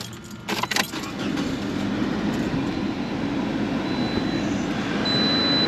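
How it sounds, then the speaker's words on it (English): Car keys jangle briefly near the start, then a car engine turns over and settles into a steady, loud idle drone that continues to the end. "Just turned the car on."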